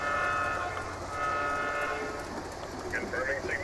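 Model train running on a main line track of a backyard deck railroad, a steady rolling rumble with a tonal whistle-like hum, close and continuous, with people talking briefly.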